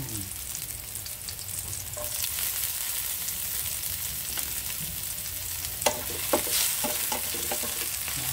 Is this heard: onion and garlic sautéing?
yes